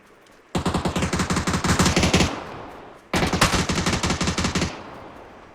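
Two long bursts of rapid automatic gunfire in the video game PUBG, each lasting under two seconds, loud and close, separated by a short pause.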